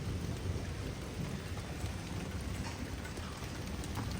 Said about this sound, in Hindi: गाइस बादलों की आवाज सुन रहे हो?